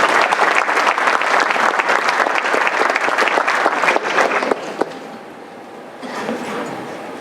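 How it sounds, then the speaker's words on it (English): Audience applause at a city council regular meeting, loud dense clapping from a crowd that holds steady for about four seconds, then thins to scattered claps and fades into room noise. "So give yourself a big hand of applause for showing up."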